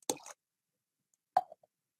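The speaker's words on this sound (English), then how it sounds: "we're going to measure out 2 tablespoons of vinegar for every cup of milk" Vinegar being added to milk in a beaker makes two short, soft liquid plops separated by a silent pause, close and clear.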